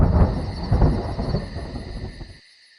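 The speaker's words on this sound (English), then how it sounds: "Thunder." Stage thunder for a performance of Macbeth: a loud, deep rumbling roll with rain-like hiss, swelling and cracking over two seconds before cutting off abruptly, with no voices over it.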